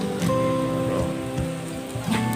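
Rain falls steadily at a Thai temple in the early afternoon, a continuous close patter on surfaces under faint background tones, with no talking.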